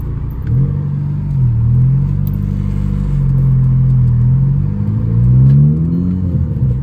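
A cheap auction car with a manual clutch backs up in reverse: a loud, close, whining gear drone that rises and falls in pitch over a rough engine rumble.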